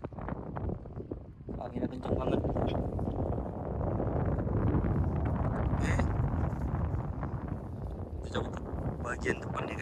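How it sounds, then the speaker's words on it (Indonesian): Strong sea wind buffets the microphone beside the open water on a crossing to a remote Indonesian island, a steady rough roar that runs throughout while a person talks over it. "nih anginnya kencang guys"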